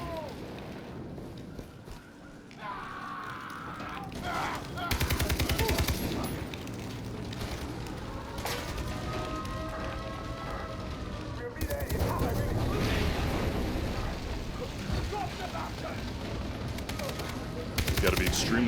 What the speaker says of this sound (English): This time he's decided to go in guns blazing.